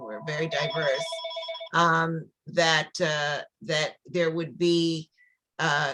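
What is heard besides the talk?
telephone ringing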